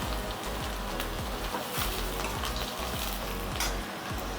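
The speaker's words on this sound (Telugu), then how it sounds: "చూడండి తాలింపు ఎగుతూ ఉంది." Tempering for masoor dal spluttering in hot oil, a dense, steady crackle of rapid pops like rain on a surface, close and alone.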